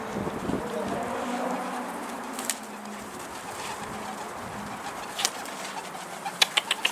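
Pigeons coo softly on a rooftop, low and somewhat distant over a breezy background, with a few sharp taps and flutters toward the end.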